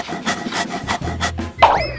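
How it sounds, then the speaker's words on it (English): A wire saw rasps back and forth through material in a steady run of scraping strokes, close and loud, ending in a sudden higher grinding screech. "I'll just try sawing it"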